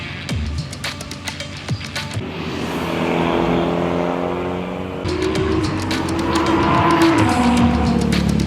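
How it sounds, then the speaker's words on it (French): An Alpine A110 S sports car on a race circuit. Its engine note rises and swells as it approaches, loud and close by the end, over outdoor background noise with scattered sharp clicks. "Ça y est, l'Alpine vient d'arriver."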